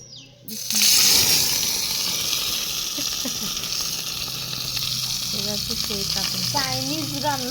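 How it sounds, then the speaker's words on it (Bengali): Chopped onions hit a hot frying pan for cooking rohu fish, and a loud, steady sizzle and hiss rises suddenly and holds throughout, with faint voices in the background near the end. "এখন দিয়ে দিচ্ছে পেঁয়াজ কুচি, রুই মাছগুলো ভুনা করা হবে।"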